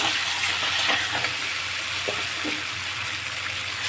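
Hot water poured into frying spice masala for a fish curry with taro and eggplant makes a dense, steady hiss and bubbling roar in the pan, close and even throughout, with faint stirring knocks and no voices.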